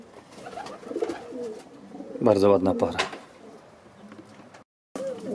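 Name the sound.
pigeons cooing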